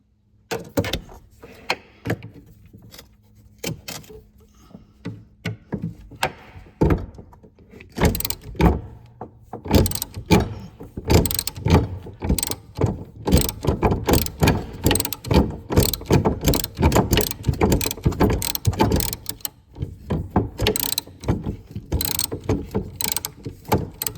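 Torx screws come out of the aluminum headlight motor housing on a C4 Corvette, making a close, quiet run of rapid ratcheting clicks and small metallic clatters, uneven in rhythm, with no talk.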